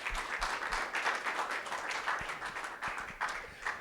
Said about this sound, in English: An applause for all you guys.